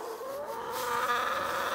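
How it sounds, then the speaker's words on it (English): Soft clucking and chattering of a few chickens, close by, over a steady background hum with no talking. "here's the chickens"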